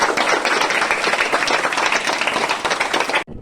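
Applause from a crowd at a school gathering: many hands clap loudly and continuously for about three seconds, then stop abruptly.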